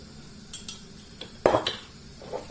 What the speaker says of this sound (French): Maintenant, je mélange mon riz.